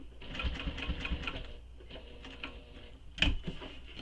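A sewing machine stitches a tote bag panel in quick bursts of rapid mechanical ticking, soft and close, with pauses between runs and a sharper clack near the end.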